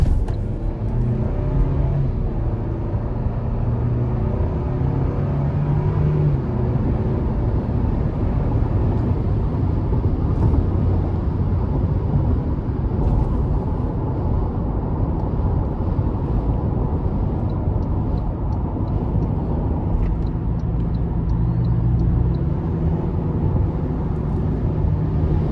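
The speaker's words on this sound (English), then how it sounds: "So very good acceleration, of course. It's turbocharged 4-cylinder." Toyota Tacoma SR Double Cab pickup (2024) with a turbocharged 4-cylinder, heard from inside the cab under hard acceleration: a steady, loud engine drone and road rumble that holds for the whole stretch without a break.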